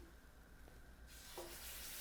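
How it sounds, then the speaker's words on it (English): Food hits a hot pan with a soft crackle, then a bright, hissing sizzle rises and continues, fairly quiet and close. "Oh, there goes that sizzle."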